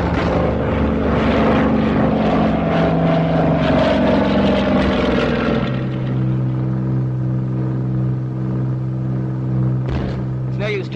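The engine drone of a WWII bomber in flight in a 1942 British war film, a loud, continuous roar with sustained tonal hum and a shift in pitch partway through, under voices.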